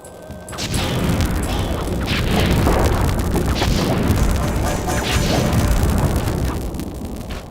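Loud, dense firework explosions from a boss's Flame Fu attack in the Sly 3: Honor Among Thieves video game, a sustained roaring barrage of booms and crackles lasting several seconds with no pause.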